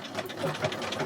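A sewing machine runs a blanket stitch along quilted fabric, producing a brief, close, rhythmic mechanical chatter with a fast pulsing beat.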